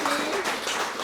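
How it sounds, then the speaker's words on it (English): An audience applauds at a talk event, with a brief burst of many hands clapping in a dense, even patter throughout. "Please join me in a round of applause for the wonderful Villa Aurora team."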